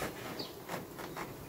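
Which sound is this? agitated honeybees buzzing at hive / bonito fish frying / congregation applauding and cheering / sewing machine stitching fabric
agitated honeybees buzzing at hive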